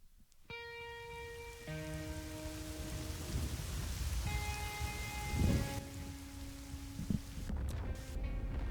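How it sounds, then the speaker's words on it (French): Rain falls steadily through an anime mobile game teaser for Bleach Brave Souls, with thunder rumbles and sustained musical tones layered over the downpour, no talking. "Encore une fois, on a encore de la pluie."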